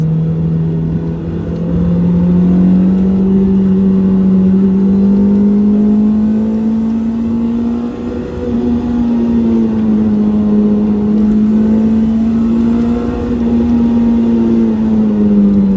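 A Toyota MR2 Spyder sports car engine drones loud and close, its pitch climbing steadily as it accelerates, with a brief dip midway before pulling hard again as the VVT-i lift engages.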